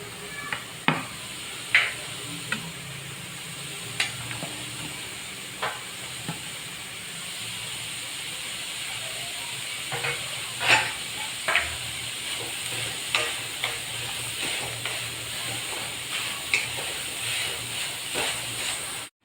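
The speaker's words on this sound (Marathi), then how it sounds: "आता मी कांदा टाकते भाजायला हा बारीक कापलेला कांदा आहे तो पण भाजून घ्यायचा आहे" Finely chopped onion fries steadily in a pan, a continuous close sizzle and hiss broken by scattered clicks and taps of a stirring spoon against the pan.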